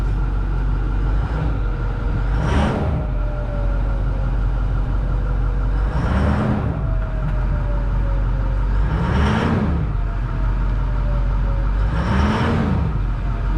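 The engine of a 2011 International 3200 RV revs in four evenly spaced bursts, each rising and falling over a steady idle rumble, loud and close in an open engine compartment.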